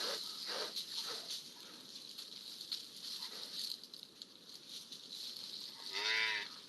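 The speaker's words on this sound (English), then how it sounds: "That's the female, that's called a moo bray. It's only made by females." During courtship between a male and a young female, the female gives a moo bray, a rising harmonic call near the end over faint rustling and background chirping.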